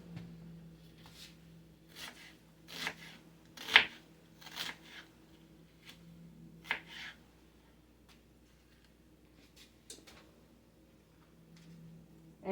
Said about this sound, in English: I'm just going to do some slices here, right down to the root, and into my crock pot.